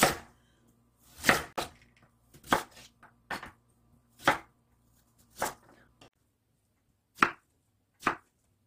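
A knife slices a radish into thin rounds on a cutting board for a pickle side dish, giving about a dozen crisp, sharp chops in irregular bursts. Between the cuts there are short pauses, and no voices are heard.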